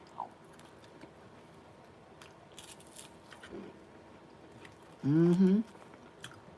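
Chewing on Kentucky Fried Chicken, soft close wet mouth sounds and faint crunches spread across the clip, with a brief hummed voice near the end.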